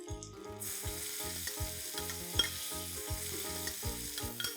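Finely chopped onions sauteing in melted butter give a soft, continuous sizzle up close, under a loud, regular rhythmic tone pattern repeating throughout.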